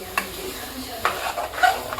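Boiled chickpeas and potatoes go into a gravy in a pan and are stirred, giving a low sizzle with a few soft scraping strokes of the spoon, close and brief.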